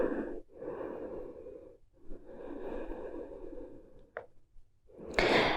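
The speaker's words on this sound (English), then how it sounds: "Close your eyes and take a deep breath." Slow, deep breaths drawn during a yoga relaxation while lying face down, heard as long, soft airy rushes at close range, followed by a sharper, louder breath at the end.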